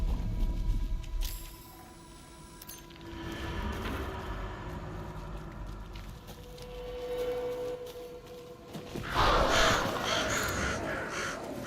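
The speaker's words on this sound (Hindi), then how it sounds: "कौवे" Crows caw in the video game Alan Wake 2, several harsh calls repeating against an eerie ambient game soundscape with rumbling and a loud rushing swell near the end.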